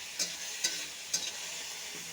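Bathua greens frying in a pan are stirred in three brief scraping strokes over a soft, steady sizzle, fairly quiet and with no voices.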